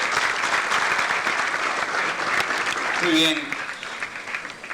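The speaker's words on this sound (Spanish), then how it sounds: "Recibimos a nuestros invitados con un muy cordial aplauso" An audience claps warmly to welcome panel guests, a dense steady applause that tapers off near the end while someone speaks briefly over it.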